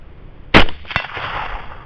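One sharp, loud rifle shot fired at a target at 100 yards with a Photon RT 4.5 night-vision setup, followed a moment later by a fainter distant impact.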